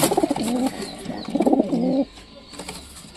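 Pigeons kept at home coo in two close, throaty rolling phrases, then fall quiet with faint rustling and a brief flutter toward the end, and no talking.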